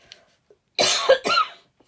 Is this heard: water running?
no